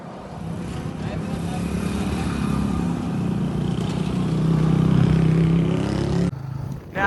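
Road traffic with motorcycles and cars makes a continuous engine rumble that swells as vehicles pass close, with clatter and revving, under talk, ending abruptly.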